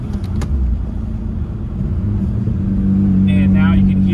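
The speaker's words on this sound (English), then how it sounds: "And now you can hear audible change in the exhaust. It got a little louder." A Mazda Miata idling with its exhaust valve opened, a steady low rumble that grows slightly louder, with voices over it near the end.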